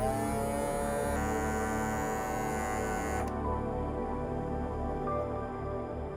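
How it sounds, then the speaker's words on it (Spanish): A homemade portable air conditioner runs with its fans and pump switched on together, giving a loud steady electric hum and buzz with a drone that shifts partway through, with no voices. "Al accionar el interruptor se ponen en marcha simultáneamente los ventiladores y la bomba."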